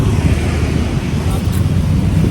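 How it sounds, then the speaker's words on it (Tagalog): Strong wind roars steadily against the microphone, a loud low rumble filling the whole stretch with no pauses. "Yeah, lakas ng hangin ngayon."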